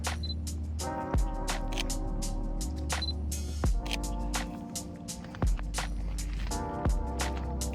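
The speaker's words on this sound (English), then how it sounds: "So I'm just gonna be snapping some cool pics and stuff like that." A single-lens reflex camera fires its shutter repeatedly during outdoor nature photography, giving sharp mechanical clicks at irregular intervals of about a second or two, close and crisp over steady low background noise.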